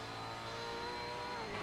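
Race car engine in a V8 Supercar racing video game at Road America, droning steadily at high pitch with a shifting whine as it changes down a couple of gears under late braking, continuous and close.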